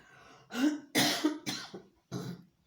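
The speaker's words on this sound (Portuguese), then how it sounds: "Tô com tosse." A person coughs four times in a row, close and fairly loud, each cough a rough burst separated by brief pauses.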